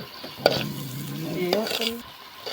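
Spices fry in oil for a mutton blood fry with a close, steady sizzle, and two sharp utensil clinks cut through the crackle.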